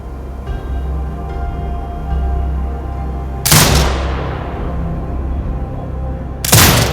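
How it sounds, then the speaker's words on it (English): A drone turret fires in Sniper Ghost Warrior Contracts 2: two loud, sharp blasts several seconds apart, each trailing off into a fading rumble over a low background hum. "Exit binocular mode and command the turret to fire."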